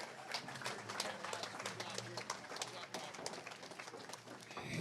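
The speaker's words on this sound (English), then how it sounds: "One more big round of applause." A crowd applauds at a fishing tournament weigh-in, the CISA Kingston Open 2025, with dense, faint scattered clapping that carries on steadily, mixed with voices.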